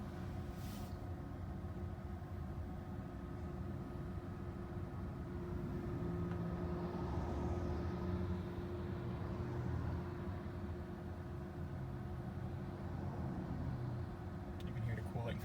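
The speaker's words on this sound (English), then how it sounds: "You can hear the cooling fan in the back." Cooling fan in the back of a Yandex self-driving car, a steady low hum and whir droning under road noise inside the moving cabin, with people talking over it.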